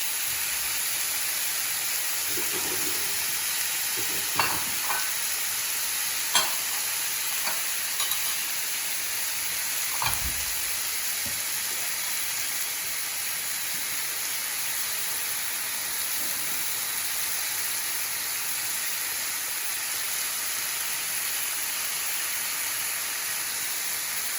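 Meat filling for banh bao sizzles in a hot pan with a continuous hiss, punctuated by a few clinks and scrapes early on; no one speaks.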